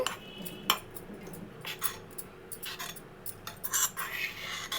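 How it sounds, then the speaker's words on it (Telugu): Ginger pieces dropped into a steel mixer jar for an ginger pickle, giving a run of light clinks and small metallic knocks spaced irregularly, fairly close and quiet, with no talking. "ఒక మిక్సీ గిన్నె తీసుకుని మనం ఏ పెట్టుకున్న అల్లం ముక్కలు ఉన్నాయి కదండి అవి వేసేసుకోండి"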